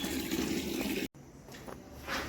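A bucket of water is poured out in a rural home where buffalo are kept, a steady rushing splash that cuts off abruptly, followed by fainter trickling and dripping.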